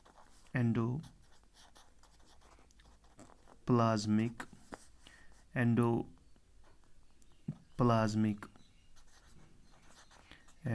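A hand writes notes during a lesson on cell organelles, the pen's soft scratching faint and intermittent beneath repeated bursts of a person speaking.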